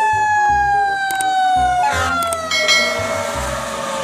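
A red toy fire truck blares an electronic siren with a steady falling wail, loud and close, while a rhythmic low beat pulses underneath; no talk is heard over it.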